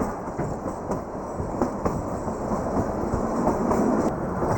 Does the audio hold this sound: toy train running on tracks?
yes